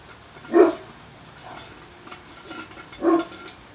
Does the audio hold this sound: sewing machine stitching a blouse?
no